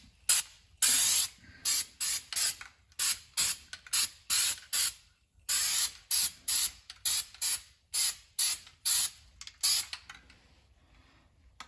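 Fluid Film undercoating sprayed onto a vehicle's underside in a long run of short, sharp hissing bursts with brief gaps, loud and close, with no talking.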